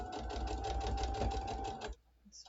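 A sewing machine runs fast and steadily while basting small pieces onto a bottle bag, an evenly rattling close whir that cuts off abruptly near the end.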